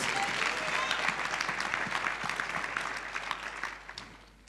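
Congregation applauding in a church during a testimony, a dense burst of clapping that gradually thins and fades toward the end, with some voices underneath.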